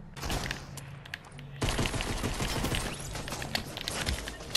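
Sniper rifle gunfire in a Fortnite match, heard as a dense stretch of sharp cracks and impacts that grows louder and busier partway through, mixed with other game sounds.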